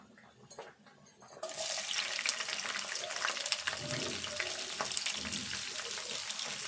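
Chopped onion dropped into hot oil in a pan while cooking a potato chicken curry, a quiet moment then a sudden sustained sizzle that stays steady and close until the end.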